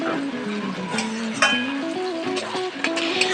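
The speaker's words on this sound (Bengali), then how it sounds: "একটু নাড়াচাড়া করে মেটে আর আলুটাকে ভেজে নেব।" Goat liver and potatoes fry in a pan with onion and green chilli while a utensil stirs them, scraping and clinking against the metal over a steady sizzle, close and fairly loud.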